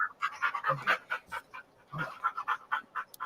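Dog panting quickly and rhythmically close by, a steady series of short breathy huffs over a few seconds.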